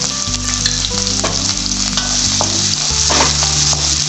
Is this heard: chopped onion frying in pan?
yes